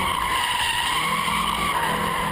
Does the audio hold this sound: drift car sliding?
yes